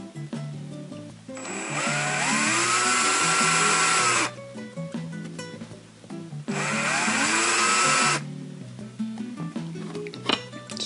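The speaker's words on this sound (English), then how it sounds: "I'll drill a little bit more." Power drill countersinking holes in retractable landing gear, two loud sustained whining bursts of several seconds each separated by a pause, with rustling handling noise between them.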